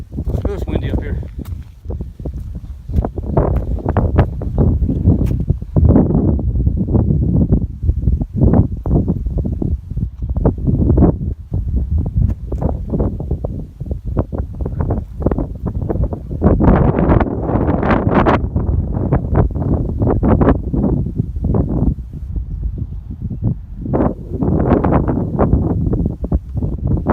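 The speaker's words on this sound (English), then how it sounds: "Oh, it's windy up here." Strong wind gusts buffet the microphone at the Mary's Rock summit in Shenandoah on the Appalachian Trail, a loud, constant, rumbling roar with uneven surges, and a voice is heard briefly.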